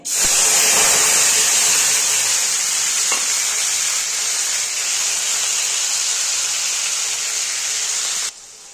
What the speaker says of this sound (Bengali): দেখো বন্ধুরা এবার না আমি ভালো করে কষিয়ে নেব